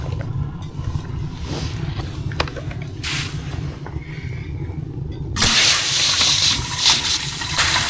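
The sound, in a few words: water filling a kettle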